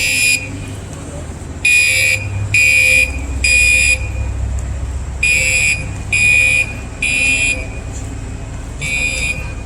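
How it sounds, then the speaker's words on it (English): A loud, shrill fire alarm sounds in repeating groups of three short pulses, separated by brief pauses, over a low background rumble. "Like a fire alarm."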